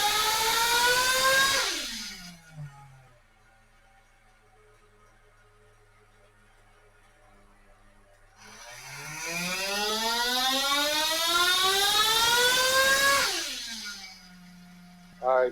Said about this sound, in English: clean out run, dyno tool